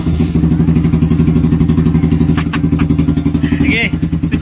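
A Kawasaki Barako motorcycle fitted with a GP Warrior muffler idles close by, its single-cylinder exhaust thumping in a fast, even pulse with a slight blip near the end, while a person talks over it.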